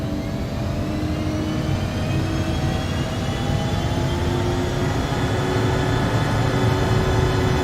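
Twin jet engines of an Embraer ERJ-145 in X-Plane 11 roar at takeoff power, a loud steady rumble with a rising whine running throughout.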